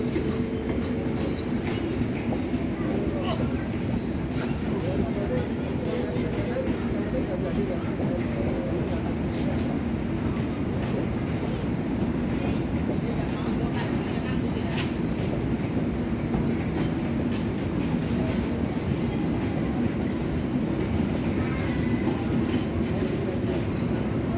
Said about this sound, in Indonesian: Kereta api Gumarang.